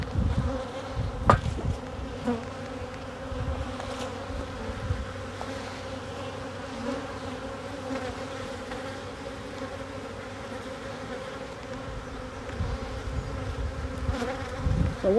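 Honeybees hum continuously around an open hive during a hive inspection, a dense steady buzz up close with occasional louder passes and faint handling knocks.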